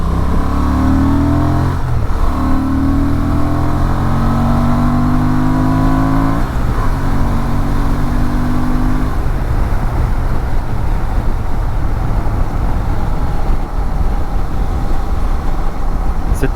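A 2024 Honda Transalp 750 motorcycle ridden on winding, bumpy country roads, its engine loud and close, revving through gear changes under steady wind roar throughout.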